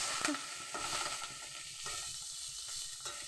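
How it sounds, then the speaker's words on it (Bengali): Many small fish fry in hot oil in a nonstick pan, giving a steady, close sizzle throughout with a few light clatters from stirring. "মাছগুলো দিয়ে দিলাম, মাছগুলো ভালোভাবে ভেজে নেব"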